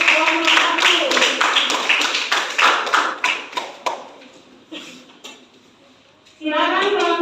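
A classroom of students claps for a presenting group, a burst of scattered handclaps that thins out and fades, before a voice begins speaking near the end.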